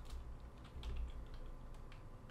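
Quiet clicking of computer keys typed in short bursts, close and faint, with no voices.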